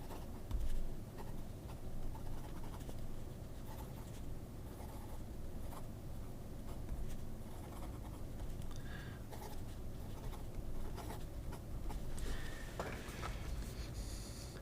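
A fine-nib pen writes on paper, making a faint, continuous scratching with small stroke-by-stroke bursts, close and quiet, with no talking.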